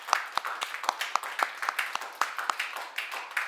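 A Sunday church congregation claps to welcome newcomers, a sparse, moderately quiet round of individual hand claps in an uneven rhythm, with some voices faintly underneath.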